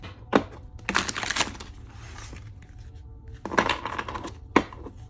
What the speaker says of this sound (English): I'm gonna shuffle the cards.